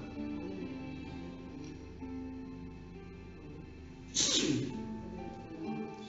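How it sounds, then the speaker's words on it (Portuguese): A single sharp sneeze bursts out during a church sermon, cutting through a soft, sustained musical backing before the music carries on. "O espirro vai ficar gravado."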